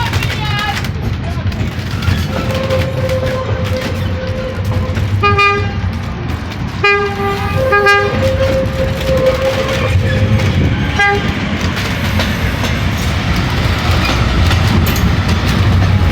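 A railcar and the Portland 11 locomotive exchange horn toots on the Waitara Branch, short blasts and longer tones over the rumble of a passing train, fairly close.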